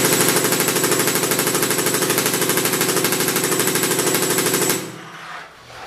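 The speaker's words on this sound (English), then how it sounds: "so you guys can see the little tiny balls coming out of the 50 cal gun" An airsoft 50 cal gun fires full auto in a rapid, even stream of close, loud mechanical clacks for several seconds, then cuts off into a quieter whir.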